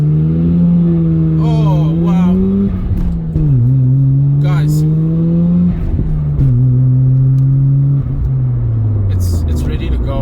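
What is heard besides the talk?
Mazda RX-7 engine revving while driving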